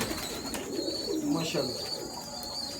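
Sialkoti and Kasuri pigeons coo softly in short rolling phrases nearby, while someone speaks briefly over the birds.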